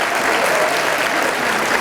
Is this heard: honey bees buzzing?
no